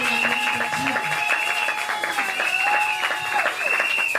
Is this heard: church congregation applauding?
yes